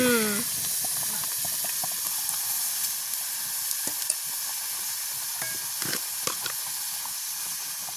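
A hot pan hisses and sizzles steadily while cherry jam is being cooked. The sound is a constant broad hiss with small crackles and pops scattered through it, and no one speaks.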